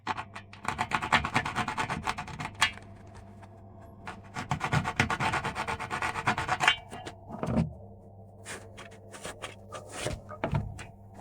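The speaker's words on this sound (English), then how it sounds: "fine file and gently smooth out the entire corner, carefully removing any and all sharp abrasive edges" Fine file rubbing and smoothing a plastered wall corner during stretch-ceiling work, a close, steady rasping scrape in long bursts with short pauses and a few light knocks, no talking.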